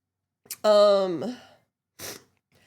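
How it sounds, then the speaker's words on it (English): A single sneeze at close range: a drawn-out voiced, falling 'ah' build-up, a short pause, then one sharp, noisy burst, followed by near silence. "I have to sneeze."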